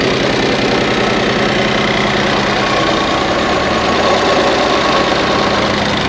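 Ford Festiva fitted with an Ecoboost engine idling steadily, a loud continuous rumbling drone with a faint rhythmic knock underneath, close up and alone.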